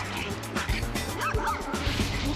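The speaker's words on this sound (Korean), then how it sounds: "길에서 만난 강아지 친구 때문이었군요" Two dogs meeting on a street walk yip, bark and whimper at each other, sharp excited calls close by over steady background noise and a passing car.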